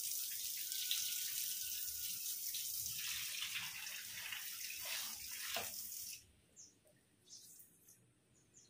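Water poured and splashing steadily over a freshly scrubbed garden drain in a backyard, a continuous hiss and gush for about six seconds that cuts off, leaving faint trickles, drips and birdsong.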